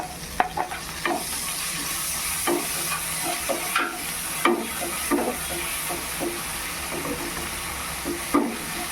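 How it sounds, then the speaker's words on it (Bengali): Prawns fry in a pan with chili paste and ginger paste, a constant close sizzle broken by repeated spatula scrapes and taps at an uneven pace, with no voices. "এবার এর মধ্যে এই যে লঙ্কা বাটাটা আর এখানে আদা বাটাটা দিয়ে দেবো।"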